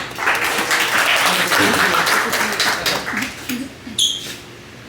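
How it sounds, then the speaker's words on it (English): An audience claps loudly and continuously, the applause swelling and then thinning out toward the end. "Please give a round of applause for them."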